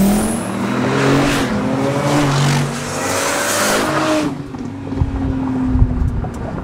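A Lamborghini Murcielago's 6.2-liter V12, driven on a top-speed run, accelerates hard with a loud rising engine roar and climbing gear tones, then cuts off abruptly as wind rush and rumble take over.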